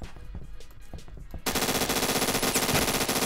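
Rapid automatic gunfire in the Roblox shooter Phantom Forces: after a stretch of scattered distant shots, a loud, dense, continuous burst of machine-gun fire erupts and holds steady to the end.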